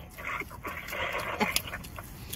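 Dog nearby giving soft whimpers and yips over low room noise, short irregular vocal bursts across a couple of seconds.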